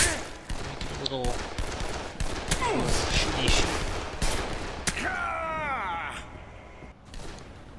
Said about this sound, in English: Let me pull out a gun here.